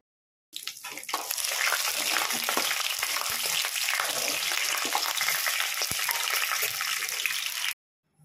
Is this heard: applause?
no